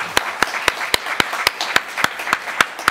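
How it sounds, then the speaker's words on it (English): Scattered hand claps from an audience thanking a parliamentary panel, about a dozen sharp, evenly spaced claps in a small room rather than a dense ovation, fairly close and clear with no talk over them. "please join me in a round of applause for our panel members."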